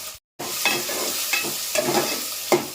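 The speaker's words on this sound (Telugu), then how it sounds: "ఎండురొయ్యలు కూడా వేస్తున్నానండి" Dried prawns sizzle steadily in a pan with onions as a spoon stirs and scrapes them in several close, irregular strokes, with no talking.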